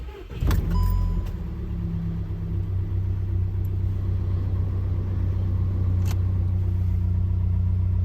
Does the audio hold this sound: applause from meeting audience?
no